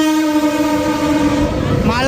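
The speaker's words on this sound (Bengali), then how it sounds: "আর সামনে দিয়ে কোন একটি ট্রেন আসছে" A loaded goods train passes a railway station, sounding a long, loud horn that holds steady and then shifts pitch near the end. Rumbling wagon noise rises underneath as it goes by.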